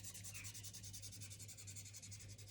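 Pastel colours being blended on paper, a steady soft rubbing with a quick repeating rhythm, close and continuous with no talking.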